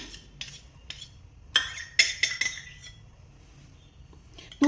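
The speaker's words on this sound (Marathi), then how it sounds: "आता त्याच्यामध्ये मी तूप टाकते" Metal spoon clinks and scrapes against a non-stick pan several times in quick bursts while adding ghee, with quiet gaps between, close by and without speech.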